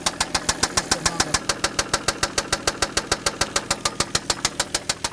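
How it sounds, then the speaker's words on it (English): A 1997 Toyota Land Cruiser engine with a failing connecting rod knocks at idle, a rapid, steady train of sharp metallic taps riding over the engine's low hum, loud and close with no talk. "engine knock in this 1997 Toyota Land Cruiser"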